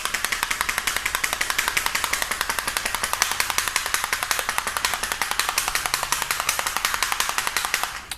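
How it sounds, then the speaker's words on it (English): Bottle of CarPro Eraser shaken steadily by hand for trim restoration, a fast, even rattling rhythm of regular strokes that continues loud and close throughout, with no talking. "So again, you want to make sure that you shake the bottle."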